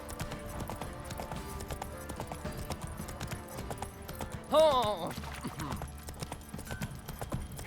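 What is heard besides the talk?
horse hooves in video game The Witcher 3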